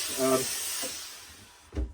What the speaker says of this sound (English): let's introduce a bit of steam and see what happens